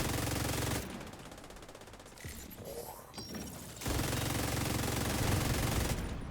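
Sustained automatic gunfire from a video game, loud and dense, in two long bursts separated by a quieter stretch of scattered mechanical noises.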